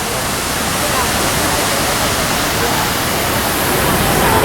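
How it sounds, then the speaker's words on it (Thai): Water from a fountain in the middle of a public square in Barcelona makes a steady, loud broadband rush that stays even throughout. "นี่บรรยากาศรอบๆน้ำพุนะ"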